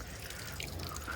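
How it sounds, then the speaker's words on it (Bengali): Tap water runs while a banana leaf is washed, a soft steady trickle and dribble, quiet and close with no talking. "কলটা বন্ধ করো, জল অপচয় করছো।"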